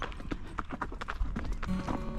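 Ruby, a pony, walks toward a trail, her hooves clip-clopping in a steady rhythm close by, with a faint background murmur.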